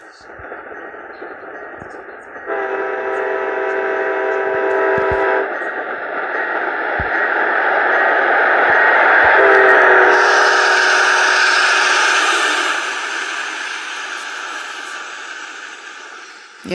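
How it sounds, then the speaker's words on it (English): A train in a multiplayer video game sounds its horn in two long chord blasts over a rumbling engine, with a ringing bell layered in as the train approaches; a voice talks over it. "I'm also gonna honk the horn."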